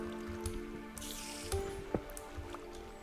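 Water in Minecraft makes soft, squishy drips and small splashes over a steady tonal game backdrop, with a couple of sharper wet plops standing out close by.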